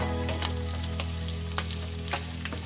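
Pork stir-frying with garlic and onion in a pan makes a steady, close sizzle, broken by sharp scraping strokes of stirring over a low hum.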